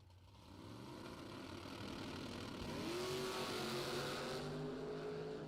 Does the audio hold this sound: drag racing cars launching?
yes